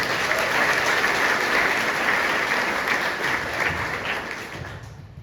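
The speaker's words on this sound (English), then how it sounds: "give him a round of applause" Town hall audience in Warren County claps in a dense, sustained round of applause for a local farmer, steady and full before gradually fading toward the end.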